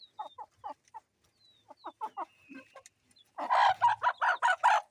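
Chickens on a poultry farm cluck in short, repeated bursts, with quieter scattered clucks at first and a louder, denser run of clucking near the end. No one speaks.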